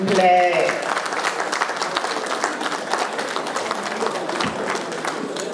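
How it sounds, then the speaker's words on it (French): A gala audience at a charity evening claps loudly and continuously, a dense sustained ovation with a brief crowd swell and voice at the start, then steady applause throughout. "Merci beaucoup, on applaudit très très fort."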